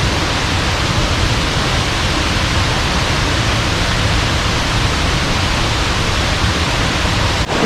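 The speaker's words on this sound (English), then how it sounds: "This is the 27-foot tall Harrison Wright Falls." The 27-foot Harrison Wright Falls on the Falls Trail in Ricketts Glen, a steady, loud, broadband rush of falling water with no letup, heard up close.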